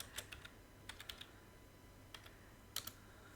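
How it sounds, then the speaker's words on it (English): Keystrokes on a computer keyboard come in short bursts of several clicks separated by pauses, close and fairly quiet over a low steady hum. "we're just going to type in the phrase,"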